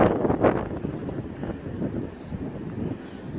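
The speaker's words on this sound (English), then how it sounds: "Probably not going to hear a single word I say that wind's picking right." Strong wind buffeting a microphone at an old wharf during metal detecting, a loud continuous low rumble with gusty swells and no clear speech.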